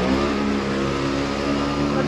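A Porsche 911 rolls slowly in sport mode, its engine giving a steady, close, low drone heard from inside the car.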